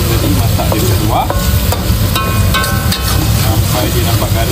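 Shallots and chicken stir-fried in a pan for a Negeri Sembilan-style soy sauce chicken dish, giving a continuous loud sizzle with scraping stirs and clinks throughout.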